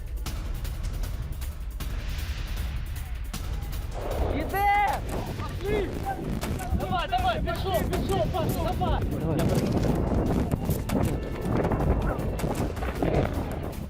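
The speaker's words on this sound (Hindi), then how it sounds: "ताबड़तोड़ फायरिंग करते यूक्रेनी सैनिकों की ये तस्वीर आपके सामने" Gunfire from Ukrainian soldiers in war footage of front-line fighting near Kharkiv, heard as bursts of shots over a steady rumble, with voices talking throughout.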